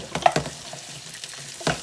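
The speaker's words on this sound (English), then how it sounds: "Now it's sizzling enough." Broccoli sizzling in oil in a pan while being stirred, a soft continuous crackle close by with a few louder bursts near the start and end, no voices.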